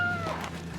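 Frightened feral cat confined in a live trap, letting out a single close, strained meow that trails off against a low background hum.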